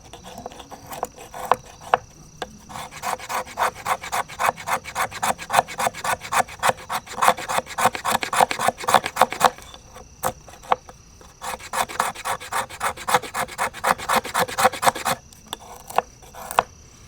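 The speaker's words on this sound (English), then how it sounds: "Getting back to some scraping here," A Work Tuff Gear Forester knife scraping wood, with fast rhythmic rasping strokes repeated steadily in long runs and broken by brief pauses, close and loud with no talking.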